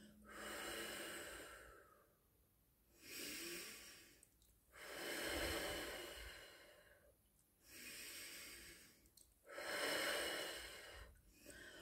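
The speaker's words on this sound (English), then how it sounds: "pucker your lips as if you're going to whistle and breathe out for four" Slow breathing out through pursed lips as if to whistle, about four long airy exhales separated by short quiet gaps, close and soft.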